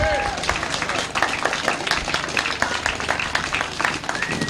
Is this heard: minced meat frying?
no